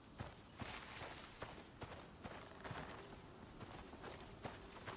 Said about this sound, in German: So, das Pferd kommt wieder recht mit.